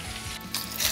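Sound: beef sizzling in hot oil with garlic and ginger

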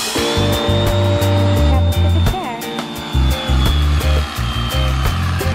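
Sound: electric knife cutting memory foam mattress

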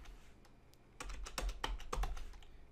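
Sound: typing an IP address on a computer keyboard

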